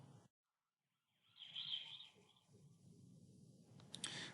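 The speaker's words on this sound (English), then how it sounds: "say for example an ambulance siren is coming towards you and then passes you and goes away again" An ambulance siren heard faintly after a brief silence, its wail rising and shifting in pitch as it approaches and passes, over a low rumble of background noise.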